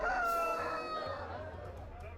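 Roosters crowing during a cockfight in China, with a loud, drawn-out crow at the start that fades into a low background murmur.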